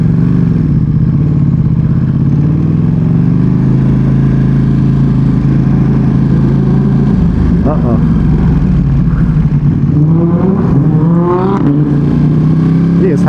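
Steady, loud engine roar of a Lamborghini sports car accelerating on a highway, heard from a nearby vehicle with wind and road noise throughout and rising pitch sweeps as it revs.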